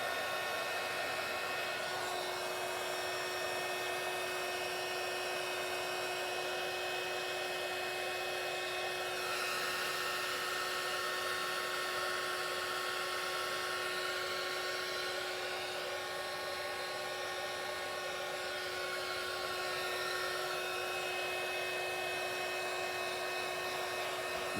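A heat gun blows over an epoxy resin pour to clear bubbles, a continuous steady whirring hiss with a thin whine, held at an even level throughout.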